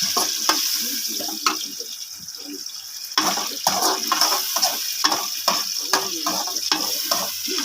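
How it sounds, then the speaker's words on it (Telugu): Chicken masala sizzles hard in a pan over a high flame while a utensil stirs it, producing repeated scraping strokes over a steady frying hiss, close and fairly loud. "హై ఫ్లేమ్లో వేగించుకోవాలి"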